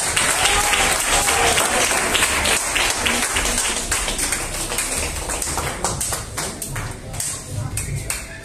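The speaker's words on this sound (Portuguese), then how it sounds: "Palmas para Jesus" A church congregation at a mission service claps loudly and steadily for several seconds, dense and continuous.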